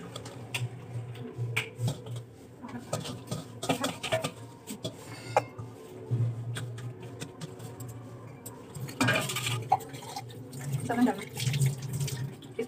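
Water poured into a pressure cooker holding crushed carrots, a soft splashing trickle heard up close in a home kitchen with clinks of utensils and a low steady hum beneath.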